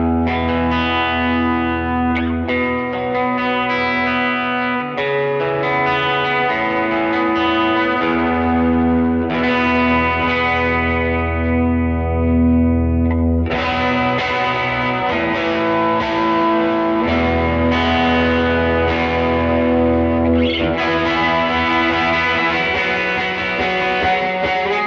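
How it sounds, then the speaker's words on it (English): An electric guitar plays sustained chords and melodic lines through dual tweed amp models on a Line 6 HX Stomp, with lush delay and reverb trails. It is loud and close, has no talking, and shifts in tone partway through. "go back and forth between the two delay and reverb settings to give you guys an idea of what we got going on here"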